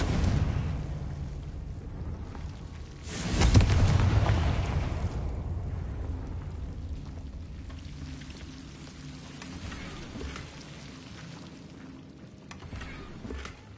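The Confringo explosive spell in the video game Hogwarts Legacy goes off as one sharp, booming blast about a third of the way in, rising out of a steady rumbling game ambience that then slowly fades.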